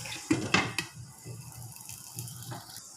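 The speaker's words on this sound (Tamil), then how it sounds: "கொஞ்சம் மூடி வைப்போம்." A metal lid clacks onto a pot of black pepper chicken on the stove, two sharp clinks close by, then a soft simmering hiss underneath.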